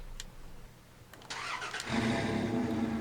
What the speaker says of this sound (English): Leave the engine on for you to listen to,